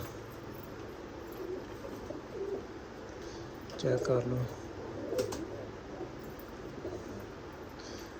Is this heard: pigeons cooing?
yes